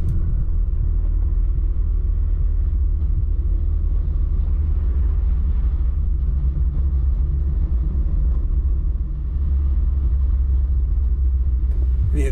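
A car travels a rural detour road through Hessen near Altenstadt, a steady low engine rumble and road drone continuing evenly throughout, close and without speech.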